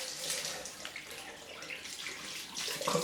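A tap runs steadily for a rinse after a head shave in a barbershop, water splashing into a sink at close range with a slight rise in flow near the end.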